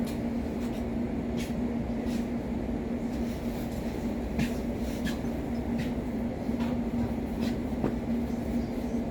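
A London Overground Class 710 train rumbles steadily with a low hum and faint intermittent clicks and rattles, continuous throughout.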